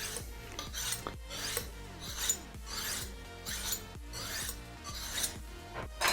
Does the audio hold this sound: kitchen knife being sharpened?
yes